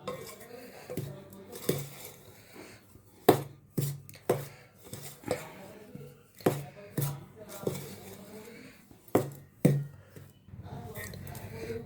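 Chilli powder, Kashmiri chilli powder and coriander powder being mixed in a dish for homemade vegetable sambar powder, giving repeated clinking scrapes of a spoon against metal at an uneven rhythm, close and moderately loud.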